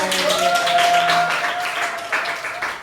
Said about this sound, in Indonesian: tepuk tangan dulu buat Nanda